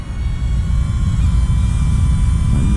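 A small DJI Neo drone hovers outdoors and gives off a steady, close whirring buzz. Thin propeller tones sit over a rough, wind-blown rumble, and no one speaks.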